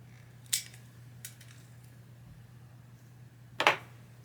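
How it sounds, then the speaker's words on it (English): A nail cutter snips press-on nails in two sharp, close clicks, one near the start and one near the end, with a fainter tick between them over quiet background hum. "I'm supposed to cut with the nail cutter"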